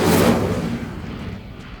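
In Hogwarts Legacy, an Incendio fire spell goes off as a single sharp whooshing burst that quickly fades into a low, decaying rumble.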